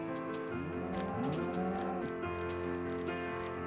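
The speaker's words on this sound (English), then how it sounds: "There are a lot of cows around here." Minecraft cows mooing in the game, several drawn-out lowing calls overlapping one another at steady loudness, with no talking.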